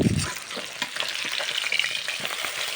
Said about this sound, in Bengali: তো সেই টাইমে একে একে মাছগুলো দিয়ে উল্টে পাল্টে নাড়াচাড়া করে ভেজে তুলে